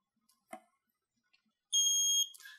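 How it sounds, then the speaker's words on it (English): A few faint clicks and taps as a phone is placed on a Luxa2 GroovyW Qi wireless charger, then a single loud, high-pitched electronic beep holds for about half a second before a brief softer tone follows. "And you'll get an audible beep,"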